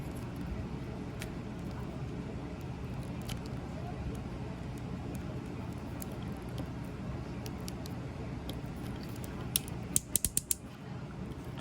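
Plastic parts of a Masterpiece Movie Ratchet transforming robot toy give sparse light clicks and creaks as a door is flipped, with a quick cluster of sharp clicks near the end over steady background hiss.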